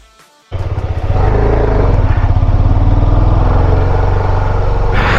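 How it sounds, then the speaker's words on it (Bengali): A motorcycle engine starts up on a muddy road after a brief quiet moment, then runs loudly and steadily nearby with a throbbing low rumble. "বাইকটা নিয়ে যেই দাঁড়িয়েছে, রাস্তায় কাদা থাকার জন্য একটু আনস্টেবল হয়ে যায়।"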